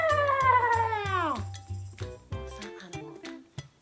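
A cat gives a drawn-out meow with a falling pitch, followed by a few light clinks like dishes or glass being touched.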